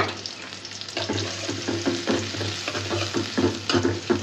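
Tomato paste hits hot oil in a heated wok while fish is cooked. It sizzles and spits steadily, with rhythmic scraping and stirring strokes close by, and nobody speaks.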